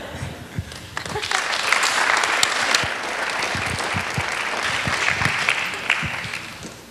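A crowd at a high school homecoming coronation claps in a sustained round of applause, loud and full, with some sharper individual claps and faint voices mixed in.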